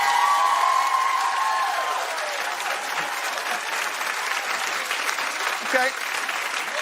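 A studio audience at a daytime talk show claps steadily, a dense wash of applause that carries on throughout with a brief voice at the start.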